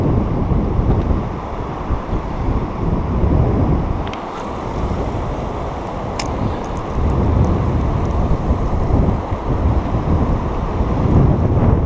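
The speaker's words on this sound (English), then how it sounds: "today, a little bit of wind" Gusty wind buffeting the microphone beside the Missouri River in Montana while fishing, a continuous loud rumbling roar that swells and eases without any voices.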